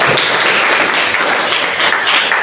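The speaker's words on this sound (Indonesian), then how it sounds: "Tepuk tangan untuk Nur Aisyah" A classroom of students applauds a classmate: dense, steady clapping from many hands fills the room for a couple of seconds, loud and close, with no voices over it.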